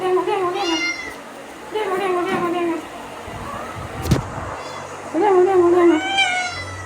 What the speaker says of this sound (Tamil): இப்போ தான் சவுண்டு பூனை சவுண்டே கேட்குது